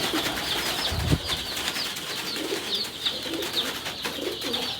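Pigeons cooing in a loft, soft repeated throaty coos with a brief wing flap near the start, close and fairly quiet over a faint background.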